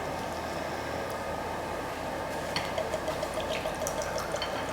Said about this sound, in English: That's why I have to pour some amount inside a beaker.